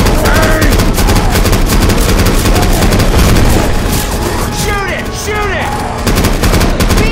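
Dense, loud gunfire from the Left 4 Dead 2 zombie campaign in Qiuming City, rapid overlapping shots and bursts running almost without pause, with voices shouting faintly underneath.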